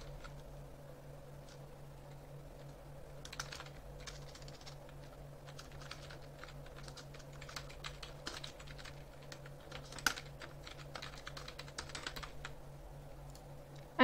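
Keys clatter on a computer keyboard as a campaign name is typed, a quick irregular run of light taps over a steady low hum, with a sharper click near the end.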